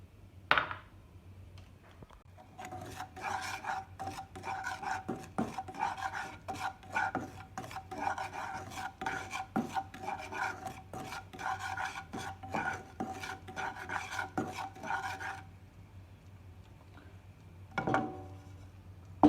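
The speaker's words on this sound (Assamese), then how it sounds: "2 চামুচমান চুজি ভাজিম।" Dry semolina (suji) being roasted in a dry pan, a spoon rasping and scraping steadily across the metal in quick, repeated strokes for most of the stretch, then stopping.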